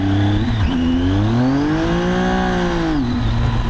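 Motorcycle with a faulty, slipping clutch being revved, its engine note rising and falling in one continuous loud, close pitch sweep, with no speech.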